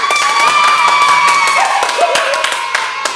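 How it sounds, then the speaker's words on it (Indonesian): Children and leaders at an online kids' worship service clap together, dense sharp claps over background music with voices and cheering mixed in, fairly loud and close throughout. "Tepuk tangan dulu buat Tuhan"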